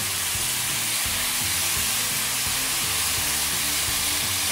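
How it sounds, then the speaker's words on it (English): Steak and mushrooms frying over high heat in a pan give a loud, steady sizzle that runs unbroken throughout, with no talking. "My steak is almost done, so it'll continue to cook as the mushrooms cook."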